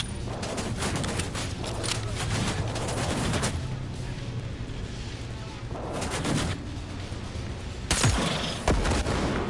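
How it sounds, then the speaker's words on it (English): Rapid gunfire from a turret in the video game Cyberpunk 2077, sustained bursts of shots filling the scene with a few louder blasts near the end, with a voice talking over it. "Oh, it's a turret that's firing at us there."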